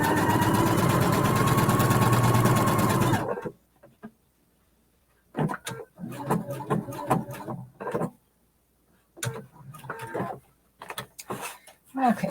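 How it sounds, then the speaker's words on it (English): A sewing machine fitted with a circular attachment stitches a round flower pattern, running in a steady whirring hum for about three seconds before stopping; scattered handling noises and talking follow. "start sewing"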